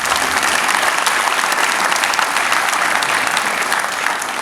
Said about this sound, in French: On peut applaudir les services.